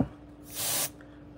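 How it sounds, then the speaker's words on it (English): An aerosol spray can sprays during alcohol ink work on a wood plank: a single close, loud hissing burst of about a third of a second over a quiet background hum. "the can is spraying"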